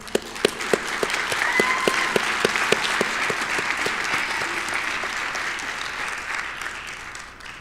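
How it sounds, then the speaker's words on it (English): An audience at a winter commencement ceremony for STEM graduates breaks into sustained applause, with dense clapping that holds steady and slowly tapers off. "We'll do a round of applause for that group."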